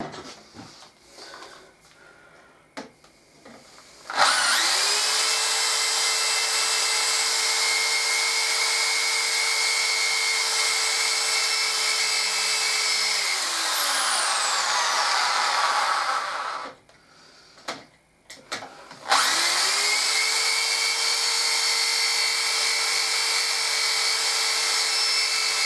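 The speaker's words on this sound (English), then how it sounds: "just drilled it out with a drill" A power drill boring out a part of a Morris Minor engine, whining at high speed in two long sustained runs separated by a short pause and a few knocks, loud and close.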